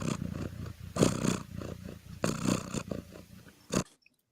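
A bull gives rough, grunting bellows in several loud bursts with snorting breaths between them, then stops abruptly into silence.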